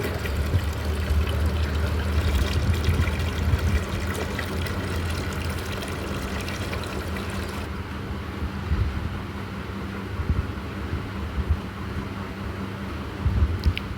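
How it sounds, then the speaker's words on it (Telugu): Thin stream of water trickling from a tap fed by a motor pump, a steady low running and splashing sound with faint intermittent knocks, close by and without talk. "చూసారు కదా వాటర్ అయితే ఎంత సన్నగా వస్తాయన్నమాట"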